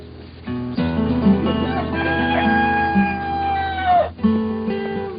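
A lean red-combed rooster crows in a long drawn-out call that rises and then trails off, set against a steady musical backing with a clucking-like accompaniment.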